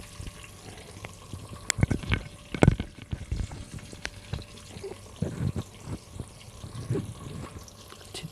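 Garlic frying in oil in a pan for a potato and capsicum (shimla mirch) curry, a soft sizzle under intermittent scraping and stirring clatter, close by, without talk.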